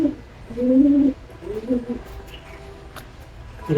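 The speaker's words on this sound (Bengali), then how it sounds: "এই একটা আমার পাঞ্জাবি মালবাহী কবুতর, দেখুন পায়রা কত ফিট।" A young Punjabi pigeon coos in soft, low, throaty phrases: two longer coos up close, then quieter murmurs and another coo starting at the end.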